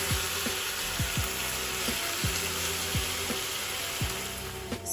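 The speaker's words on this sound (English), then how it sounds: "as the bulgogi is searing away, it's getting nice and grilled" Bulgogi sears loudly in a pan, giving a dense, steady sizzle while chopsticks knock and scrape at regular intervals, about once every second, up close with no speech.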